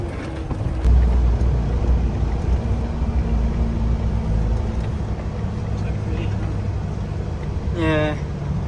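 Heavy vehicle rumble from an oversized tow truck hauling a 4x4 on the road, a steady low drone throughout with a brief louder thump near the start and a short tonal squeal near the end.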